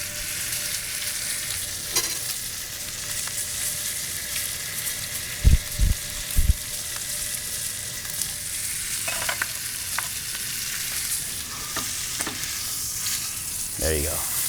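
The fat side of a steak, propped against the edge of a pan, sears with a loud, steady close sizzle, joined by a few brief knocks and faint scrapes.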